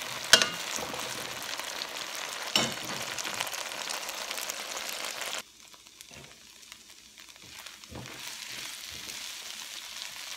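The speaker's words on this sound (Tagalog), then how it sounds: "Ginisa ko na yung garlic at saka ginger" Garlic and ginger sizzle steadily in a hot pan, a continuous frying hiss with a few sharp clinks of stirring, dropping quieter partway through, with hardly any talk.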